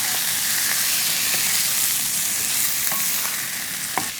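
Quail pieces are stirred through masala in a hot pan, giving a steady close sizzle and frying hiss with occasional scraping clicks of the spoon, no voices.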